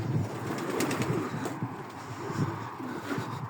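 Racing pigeons cooing in a loft, several soft low coos overlapping in a murmuring rhythm, close by, with faint wing rustles and no talk.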